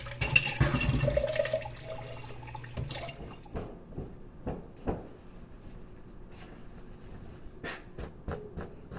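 Water runs from a tap for a few seconds while dishes are washed, then cuts off, leaving faint drips and scattered light clinks and knocks.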